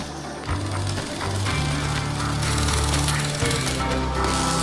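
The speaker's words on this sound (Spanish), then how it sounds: "El primer paso es soldar los bajos." Factory robots weld a car underbody, producing a loud, dense mechanical rattle and buzzing hum that drones on steadily with shifting machine tones.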